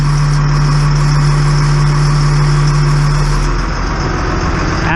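A GMC Topkick hooklift truck with a 19,000-pound twin-ram hook idles close by, a loud, steady diesel rumble with a constant low hum that barely changes throughout.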